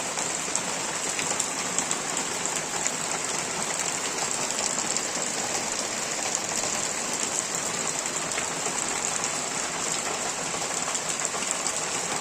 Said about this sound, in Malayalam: കുറേ നാളുകൾക്ക് ശേഷം ഞങ്ങളുടെ പ്രദേശത്ത് മഴ പെയ്തു